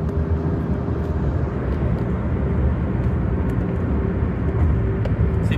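Dense, continuous roar of heavy road traffic made up of ten-wheel trucks, heard from inside a turbocharged Honda City 1.0, a loud steady rumble with no breaks.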